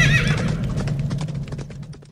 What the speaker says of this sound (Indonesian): Tiba-tiba datanglah kereta berapi dan kuda berapi muncul memisahkan Elia dan Elisa.